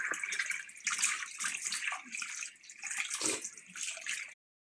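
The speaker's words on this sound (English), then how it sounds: "I'm gonna wash my hands." Water runs from a tap as hands are washed in a home kitchen, a steady close splashing hiss with shifting gurgles that swells and dips for several seconds, then stops abruptly.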